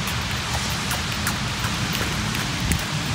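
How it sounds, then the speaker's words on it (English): Steady rain falls outdoors, a dense continuous hiss of drops striking surfaces with scattered sharper patters, close and even throughout with no voices. "It's raining outside, isn't it?"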